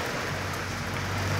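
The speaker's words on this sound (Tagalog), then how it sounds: "Ulan talaga." Steady rain pours down during a tropical storm in Davao City, a dense, even hiss with a low rumble beneath, constant and fairly close, with no voices.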